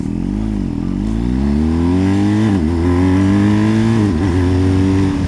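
A BMW R1250 GS motorcycle pulls hard from a standstill up to speed, its engine note climbing steadily through several gears with brief dips at each shift, loud and close throughout.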